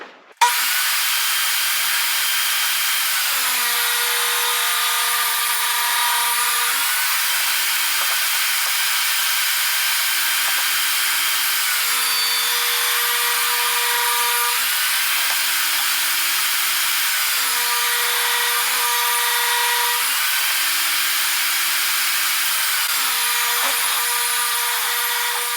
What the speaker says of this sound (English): now we're going to cut out all the boards that we need to make our little L brackets